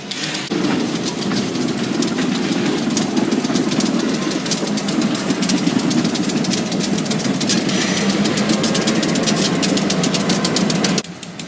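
Two Great Lakes Central diesel locomotives idle nearby during switching moves at a lumber yard spur in Traverse City, Michigan, a steady loud rumbling chug with a faint rhythmic knock, cutting off near the end.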